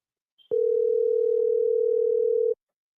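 A steady electronic ringback tone of an outgoing telephone call, one unbroken loud tone held for about two seconds after a brief click, then cut off, with no voices.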